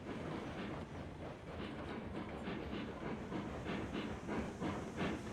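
A small steam locomotive hauling a heavy load of logs toward a sawmill rumbles and hisses steadily in a rail-simulation game, its wheels clattering in a rhythmic clickety-clack, loud and continuous, with no talking.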